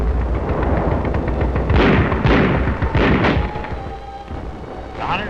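World War II 155 mm artillery guns firing: four or five heavy booming reports in quick succession, each with a rolling echo over a rumbling, grainy background, then a quieter tail.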